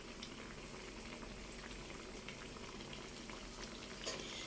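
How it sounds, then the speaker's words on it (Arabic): Homemade falafel coated with sesame frying in hot oil, a soft continuous bubbling sizzle heard alone at low volume, with a small clink near the end. "بصوا شايفينها ان هي وهي بتتقلي مش غامقه ازاي"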